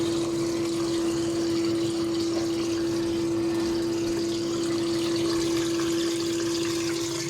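Steady water flow and pump noise during a backwash of a heavily rusted bio-sand filter, a continuous loud rushing with a strong steady hum throughout, no talking.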